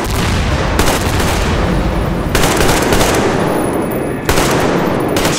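Metro Exodus video game gunfire comes as loud, dense, sustained shooting with a few harder bursts cutting through, close and continuous, and no talk is heard.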